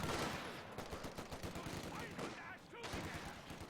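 Rapid gunfire and explosions in a Company of Heroes 2 match, dense and continuous, including sniper shots amid machine-gun bursts, with a voice talking over the battle.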